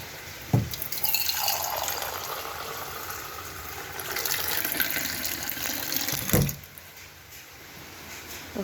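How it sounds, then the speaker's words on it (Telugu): A glass of water pours steadily into a pressure cooker holding dal for five or six seconds, a close, continuous splashing fill framed by soft knocks at the start and end. "ఇప్పుడు మాత్రం ఒక గ్లాస్ వాటర్ వేస్తాము"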